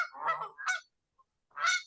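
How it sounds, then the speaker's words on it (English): A Canada goose honks loudly and close, in two harsh, nasal calls followed by a short pause and a third honk, with no voices. "Canada Goose."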